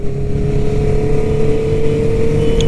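A Honda CBR 650R fitted with an Akrapovic exhaust runs at a steady, even idle close by. It gives a loud, constant hum with a firm low-pitched tone and no revving or talking.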